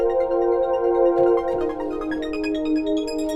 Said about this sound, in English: Oh, arpeggiator type sounds like this.